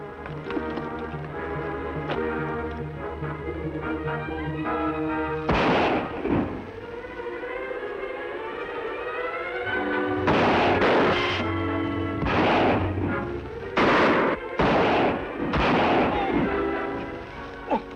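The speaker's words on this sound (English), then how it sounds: "I'll fire to keep them back." Sharp gunshots ring out in a Western radio drama, first one, then a cluster of several rapid shots, with hoofbeats and voices speaking around them.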